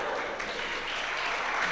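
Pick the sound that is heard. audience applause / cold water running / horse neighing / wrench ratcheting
audience applause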